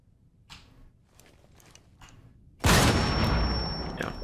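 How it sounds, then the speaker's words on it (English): In a tactical shooter match set in a house map, a grenade thrown at the ceiling blows up: a few faint clicks and footsteps, then one sudden loud blast that rings and decays. "Throw the grenade from underneath, blow it up."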